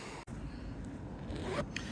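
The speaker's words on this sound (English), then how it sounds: "You can also access the valves from the outside here with these little water resistant zips" Zip being opened on a Vango F10 Xenon UL AIR inflatable tent, a short close rasping pull lasting under two seconds after a brief gap, quiet and alone without speech.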